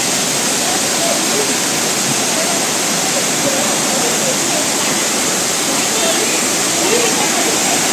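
Somtirth waterfall in the Konkan hills, water rushing down between two slopes, heard as a loud, steady, close roar of falling water that fills the whole stretch without a break.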